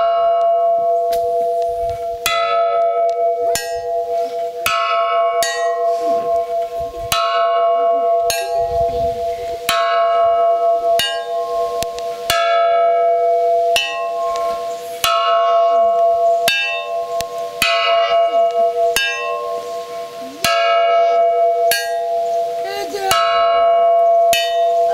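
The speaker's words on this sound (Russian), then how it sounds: "Теперь под каждый подходи и 10 раз ударить колоколом." Church bells of several sizes, small and large, struck by hand over and over in uneven turns, each clanging stroke ringing on with layered tones before the next hit lands close by and loud.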